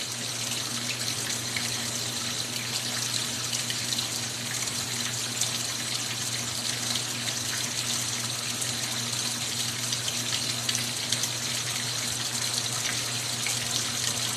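A washing machine fills with water, giving a steady, continuous rush of flowing water with a low hum beneath it, even and unbroken throughout, with no talking.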